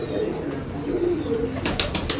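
Pigeons coo softly in a breeding loft, where Teddy and Kamkagar cross-bred birds are kept, with a low steady murmur through the clip and a few sharper wing or body sounds near the end.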